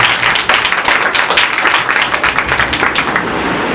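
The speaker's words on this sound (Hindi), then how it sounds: "यीशु के लिए जोरदार तालियां बजाएं।" A church congregation applauds loudly and continuously, a dense close roar of many hands clapping that holds steady throughout.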